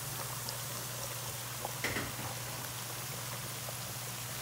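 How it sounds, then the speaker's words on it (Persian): A pot of water at a rolling boil on the stove for spaghetti gives a steady bubbling patter with a low hum beneath it, fairly quiet and continuous, without speech. "اینجگا هم او به جوش آمده."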